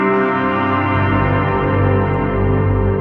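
Sampled instrument notes drenched in an extremely long 10-second reverb, forming a dense, steady, loud sustained wash of overlapping tones with no gaps and no talking.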